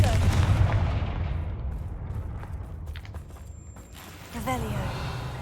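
A Confringo spell bursting in Hogwarts Legacy, a deep booming blast that rolls off into a long rumbling fade, loud and close, with a short whoosh of magic near the end.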